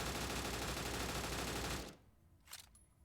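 An assault rifle in a shooter game fires a long sustained automatic burst for about two seconds, loud and dense, then stops abruptly, leaving a brief mechanical clack and a quieter tail.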